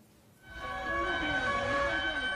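A loud emergency siren in Barcelona, Spain, starts up after a moment and wails steadily with a wavering tone, close and prominent.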